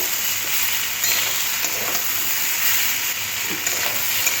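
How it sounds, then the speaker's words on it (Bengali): Sliced onion goes into a pan of potatoes and yardlong beans frying in oil, producing a loud, even hiss of sizzling with faint stirring underneath and no voices. "সবশেষে এই পেঁয়াজ একটা পেঁয়াজ আমি এইভাবে কেটে নিয়েছিলাম এবারে দিয়ে দেব"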